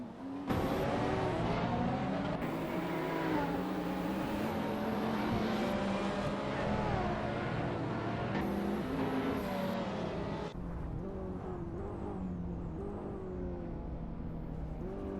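Supercar engines racing in a video game at the Long Beach street circuit, loud continuous engine whine rising and falling through gear changes, sometimes several cars layered, with no talk.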